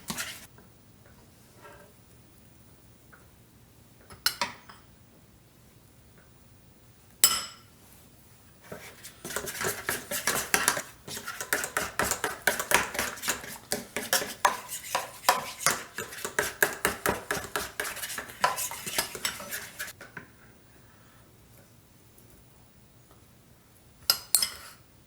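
Onion ring batter being folded and mixed in a bowl, with a spoon or whisk tapping and clinking against the sides in a steady, busy rhythm for several seconds, framed by quieter pauses and a few isolated knocks.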